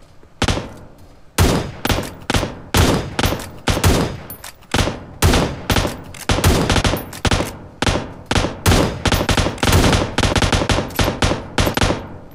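Rapid bursts of gunfire in PUBG Mobile, loud and close, repeating in quick volleys with short gaps, more like automatic fire than single sniper rifle shots.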